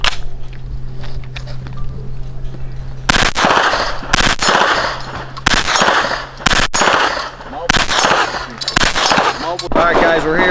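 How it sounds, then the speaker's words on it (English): Rifle gunshots at the IWI weapons range in Israel crack out loud and close, several sharp reports spaced irregularly with short bursts, over a low background hum. "so you may hear some shots in the background."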